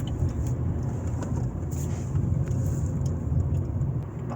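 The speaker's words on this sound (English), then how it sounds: "So you're driving on the highway with this car" 2018 Opel Corsa 1.2 cruising on a highway, with a steady low rumble of engine and road noise heard from inside the cabin, continuous and moderately loud, no talk.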